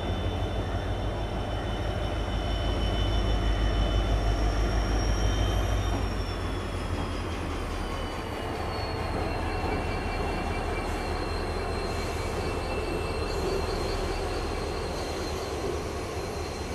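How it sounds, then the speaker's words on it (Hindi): Rajdhani Express from Dibrugarh to Delhi running on rails with a locomotive, a long continuous rumble of wheels and carriages with high steady squealing tones, loud and close throughout. "बड़ा ज़बरदस्त लोकोमोटिव है"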